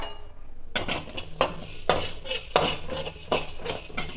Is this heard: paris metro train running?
no